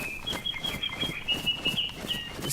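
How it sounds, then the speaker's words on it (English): A cheeseburger bird calls in DayZ, giving a thin, repeated high chirping phrase over faint outdoor ambience, fairly quiet and steady throughout. "Oh, that's a cheeseburger bird."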